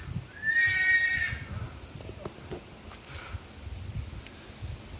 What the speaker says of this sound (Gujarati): અમારે નાગરાજનો કોહિનૂર હીરોનો એમ તો જબરો ઘોડો